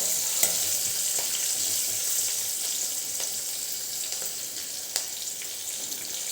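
A mixture for tuver pauva, with curry leaves and green chillies, sizzles steadily in a pan as it is stirred. Occasional soft scrapes and clicks sound over the continuous frying hiss, with no talking.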